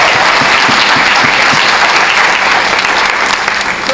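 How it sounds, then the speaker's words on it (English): An audience applauds a high school history teacher named Caroline, with steady, dense clapping filling the room at full volume throughout. "Give her a round of applause."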